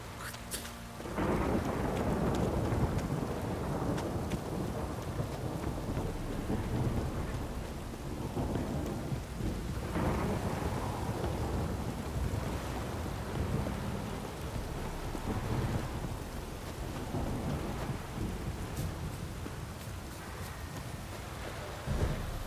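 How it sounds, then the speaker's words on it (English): Steady rain and rolling thunder in The Witcher 3: Wild Hunt, a dense continuous wash of downpour with low rumbles swelling and fading throughout, no voices. "Don't stop raining, my arse will rot off."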